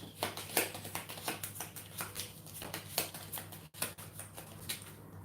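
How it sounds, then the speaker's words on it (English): Board game cards being shuffled by hand at a tabletop, a run of quick soft riffling bursts in steady rhythm, close and moderately quiet, with one brief pause near the end. "I have to shuffle and put it back on the top"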